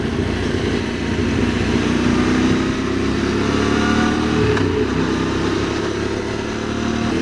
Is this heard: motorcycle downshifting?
yes